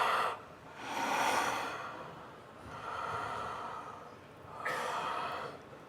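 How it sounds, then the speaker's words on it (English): Slow deep breaths during a relaxation breathing exercise: a long airy inhale, then exhales in soft swelling waves, close and fairly quiet, with no speech. "Take a couple of deep breaths"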